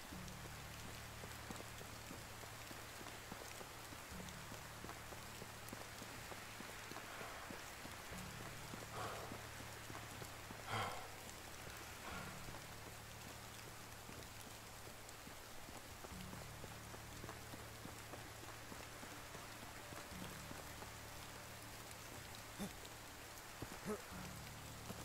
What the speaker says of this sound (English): Raining all summer.